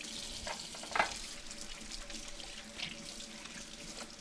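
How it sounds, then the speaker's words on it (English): Tap water running into a sink while hands are washed in a home kitchen, a soft continuous splashing with a brief louder splash early on, fairly quiet and with no talking. "I'm just going to wash my hands and put my gloves on."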